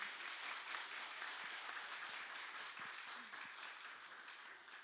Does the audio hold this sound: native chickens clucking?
no